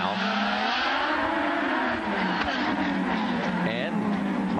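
IndyCar race cars at the 2010 Honda Indy Toronto roar continuously at close range, their engines loud and unbroken, with an announcer talking over the din.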